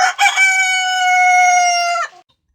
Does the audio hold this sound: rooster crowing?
yes